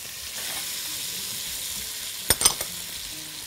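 Meat sautéing in a pot for Egyptian taro stew gives a steady soft sizzle, broken near the end by a few sharp clinks of a utensil against the pot.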